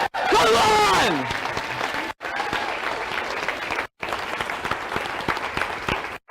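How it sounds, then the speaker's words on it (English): An audience at a live Texas Independence Day political rally breaks into sustained applause that fills the space, starting under a raised voice and continuing loud and steady with brief cuts. "Josh, can we round of applause? Round of applause!"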